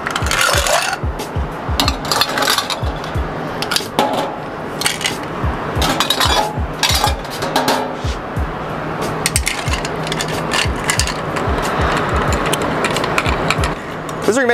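A Sazerac cocktail with rye whiskey is stirred with ice in a mixing glass. Rapid, rattling clinks and scraping come close and loud, in a continuous jangling rhythm.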